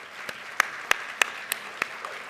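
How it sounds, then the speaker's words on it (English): Sparse, scattered claps from an audience at a seniors' gala honouring people over seventy, about seven separate hand claps in a slow, uneven rhythm, faint and roomy, with no talk. "Give them a round of applause."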